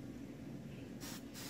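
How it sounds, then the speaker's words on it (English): Two short bursts of hairspray hiss onto hair while it is being styled with a curling iron, coming near the end, close and soft over a low background hum. "You want to spray the hair."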